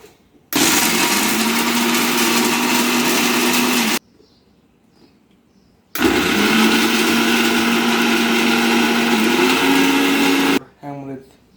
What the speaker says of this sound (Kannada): ಇದಾಗ ಗ್ರೈಂಡರ್ ಹಾಕೊಂಡು ಈಗ